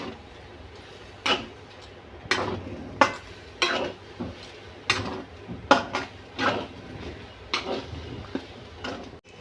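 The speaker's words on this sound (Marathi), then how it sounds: "आंब्याचा पल्प घेतला होता काढून तोही यामध्ये टाकणार आहे आणि आपल्याला हे मिक्स करून घ्यायचं आहे" Spoon stirring mango pulp into sheera in a pan, a series of close scraping and clinking strokes at an uneven rhythm over a quiet kitchen background.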